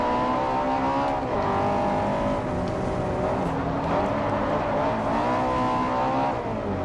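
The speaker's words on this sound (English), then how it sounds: "At least this car can actually accelerate this time, since we're going downhill." Nissan Silvia Spec-R in Forza Motorsport 4 accelerating downhill on a mountain road, a loud, steady engine drone rising and shifting through gears with brief dips, close and continuous throughout.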